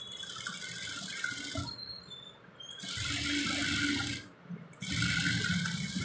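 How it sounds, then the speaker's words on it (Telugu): Sewing machine stitching along one folded side of fabric, running in steady whirring bursts that stop briefly and restart, close and fairly loud with no voices. "వన్ సైడ్ ఇలా స్టిచ్ చేసేసుకొని"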